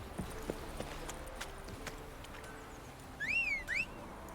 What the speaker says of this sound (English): We can pull out Roach.